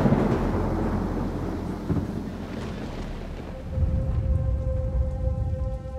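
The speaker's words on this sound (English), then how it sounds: "Above the airship hung the biggest generator of electric sparks on Earth, a thunderstorm." Steady heavy rain pours down during a thunderstorm, with low rumbling thunder swelling through it and a brief tonal whine appearing near the end.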